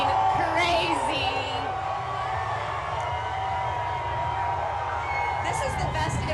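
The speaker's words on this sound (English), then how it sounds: "Oh, the crowd is going crazy." Crowd at the Oklahoma City Thunder NBA championship parade, a steady wash of cheering, whoops and shouts under close voices throughout, with a few brief whistles and peaks.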